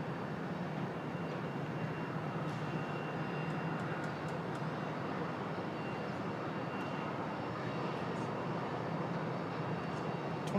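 An Air France 787 Dreamliner arriving at Raleigh-Durham airport gives a steady, distant, even engine roar that holds for the whole stretch.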